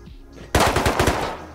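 A quick, loud burst of automatic gunfire in the survival game Rust, roughly seven rapid shots in a tight rhythm that begins abruptly after near silence.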